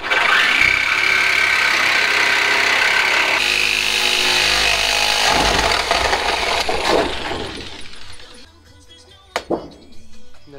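A jigsaw saws through the metal panel of a Renault Trafic van during a conversion, a loud, steady buzzing cut that runs for several seconds before the blade stops, followed by a few sharp clanks.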